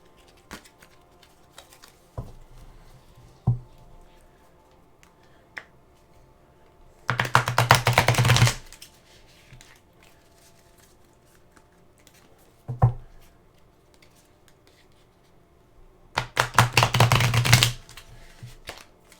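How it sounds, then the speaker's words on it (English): A deck of tarot cards being shuffled in two loud, dense riffling bursts of about a second each, with sparse soft clicks and taps between them in a quiet room. "Let me do some more shuffling of this deck."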